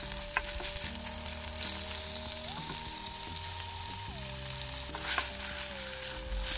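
Chopped tomatoes sizzle steadily in hot oil in a pan for a Sri Lankan tempered spring onion flower dish, with a few soft stirring clicks over continuous frying crackle and a faint tonal hum in the background.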